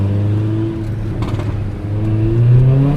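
A Mercedes-Benz AMG GLA 45 Edition 1 engine drones close by with a steady note that dips mid-way, then rises in pitch and loudness as the car accelerates toward the end.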